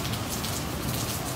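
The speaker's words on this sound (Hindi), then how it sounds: "बारिश काफ़ी तेज़ हो रही है" Steady rain falls in a dense, even hiss with a patter of drops on surfaces, continuous and fairly close, with no voices.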